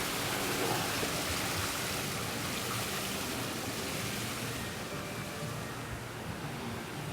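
Water splashing steadily in a fountain area beneath a bridge at Disney's Old Key West Resort, a continuous broadband rush that stays loud and even throughout.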